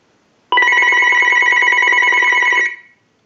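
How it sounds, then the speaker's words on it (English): A Uniden EX965 cordless telephone rings once in a single electronic warbling burst lasting about two seconds, loud and close, then cuts off into silence. "use the analyzer and send a ring cycle like you were getting a call"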